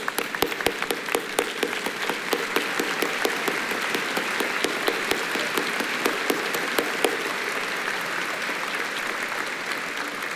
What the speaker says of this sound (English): Let's stand again and give our board a big round of applause.